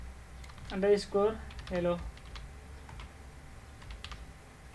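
Quick bursts of close typing clatter on a computer keyboard, with scattered single key clicks following, while someone speaks in Hindi over the first part.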